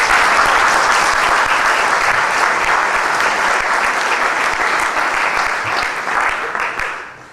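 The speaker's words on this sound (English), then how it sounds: "Can we give them a round of applause?" An audience gives a full, dense round of applause that holds steady and then tapers off near the end.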